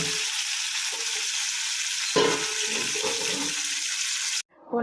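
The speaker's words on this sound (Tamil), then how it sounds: "இப்போ நல்லா சூப்பு கொதி வந்துருச்சு" Tomato soup seasoned with curry leaves and coriander boils in a pan, giving a steady bubbling hiss that stops abruptly at the end.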